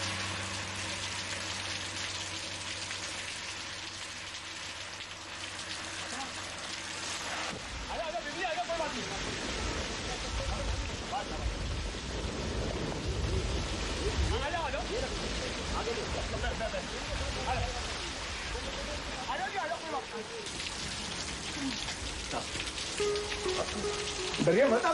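Heavy rain pours steadily onto surfaces, a dense hiss that swells louder partway through and continues throughout, with voices speaking over it.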